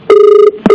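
Loud telephone ringback tone on an outgoing call: one sustained electronic tone, a short gap, then the next tone beginning, with no voices.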